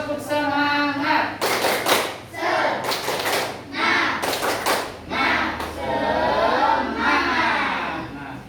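A class performs a rhythmic cheer clap, several bursts of patterned group clapping between a teacher's spoken prompts and children's chanting voices.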